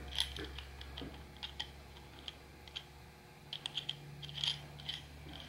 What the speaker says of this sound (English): I'm screwing it on the bottom.